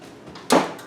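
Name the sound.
oven door closing after putting in dessert bars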